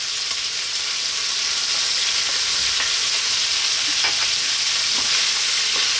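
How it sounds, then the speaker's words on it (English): Onion and garlic fry in a hot pan, giving a steady, even sizzle with light scrapes from stirring, close and alone. "At this point, we're now going to add in our onion and our garlic."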